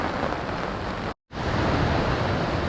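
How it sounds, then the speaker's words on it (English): Heavy rain pours down at Castle Sound in Fiordland, drumming loudly and steadily on a camp tarp, broken only by a brief instant of silence before the downpour resumes just as hard. "Castle Sound, and it's pouring down."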